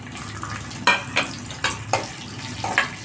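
A large sliced onion frying in a pan for a broad bean and green chilli curry gives a steady close sizzle, broken by several sharp stirring scrapes and clinks.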